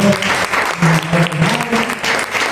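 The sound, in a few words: church congregation applauding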